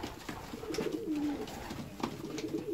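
Uzbek fancy pigeons coo softly up close, a low throaty rolling call repeated a few times over a faint steady background hum.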